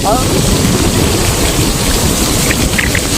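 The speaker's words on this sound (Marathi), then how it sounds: "आई ग पाऊस जाम आहे" Heavy rain pours down at a dam in a loud, steady roar, with wind mixed in and a few faint voices briefly audible.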